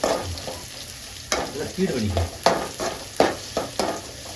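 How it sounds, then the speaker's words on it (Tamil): Onions and curry leaves sauté in a hot pan with a soft sizzle underneath, broken by several sharp scraping strokes of a spoon on the pan. No voices are heard. "அதனுடன் கருவேப்பிலை சேர்த்துக் கொள்ளலாம் மீண்டும் நன்கு வதக்கிக் கொள்ளவும்"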